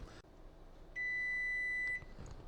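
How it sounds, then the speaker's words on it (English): A kitchen timer beeps in one steady, sustained electronic tone for about a second, fairly clear over a quiet room background. "my timer just went off"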